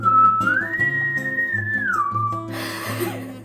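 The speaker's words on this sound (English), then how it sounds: "Pardon my whistle. I only know how to whistle sucking in." A person whistles by sucking air in, one sustained tone that climbs, holds, then slides back down before ending in a breathy rush, over a steady background hum.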